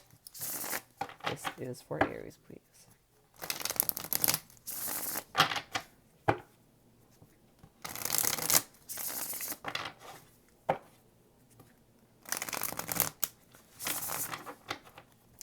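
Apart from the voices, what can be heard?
shuffling tarot cards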